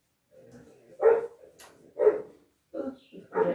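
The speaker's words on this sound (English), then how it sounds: "Oh, we've got an angry dog here today." An angry dog barks four times in sharp, evenly spaced bursts at moderate distance, with quiet gaps between the barks.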